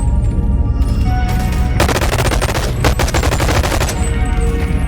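Rapid automatic gunfire from enemies riding pogo-ball contraptions in the VR game BONELAB, sustained loud bursts of machine-gun fire with dense overlapping shots and no talk.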